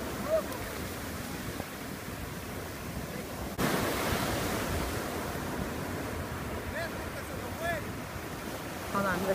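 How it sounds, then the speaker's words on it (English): Intense ocean waves break on a beach in Puerto Rico, a continuous rushing wash with a surge of crashing surf partway through, mixed with wind buffeting the microphone and faint voices in the background. "But the waves are really intense, so Jose's gonna try to boogie."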